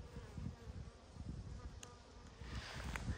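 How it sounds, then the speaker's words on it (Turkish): Honey bees swarm densely at a hive entrance, a continuous close buzzing hum with faint scattered thumps and rustles, no voices. "Bakın bunun da giriş ağzında arı yoğunluğu var."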